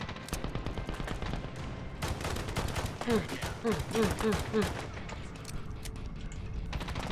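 Rapid bursts of automatic gunfire from the Medal of Honor shooter game, dense and loud, with a few tonal chirps partway through and some talk mixed underneath.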